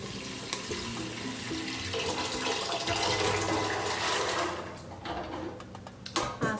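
Water poured gently into a pot of red kidney beans, a steady splashing trickle that fills the space for several seconds before thinning into a few final drips and clinks.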